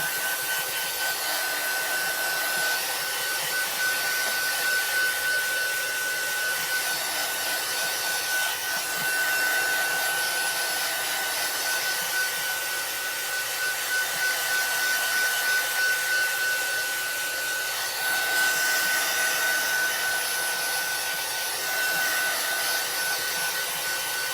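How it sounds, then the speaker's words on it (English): A heat tool blows steadily over paint on a gel plate, making a constant loud whooshing hum with a thin whine, with small dips in level as it moves, for over twenty seconds without talk. "So to dry it, I'm going to lightly go over it with my heat tool."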